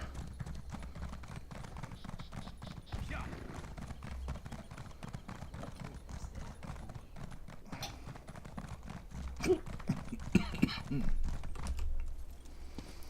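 Steady rhythmic hoofbeats clip-clop continuously from a horse in a video game, with game-like background ambience and brief louder sound effects near the end.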